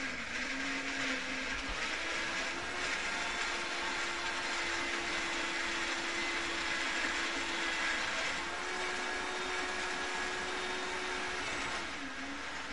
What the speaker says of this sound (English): you can use any blender